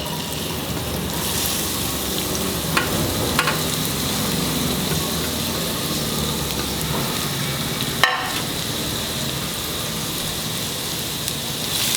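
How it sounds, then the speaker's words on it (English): Chopped onions fry in hot coconut oil in a pan, a steady loud sizzle and crackle running throughout with a few brief stirring clicks. "Once the oil is hot, put in the chopped onions."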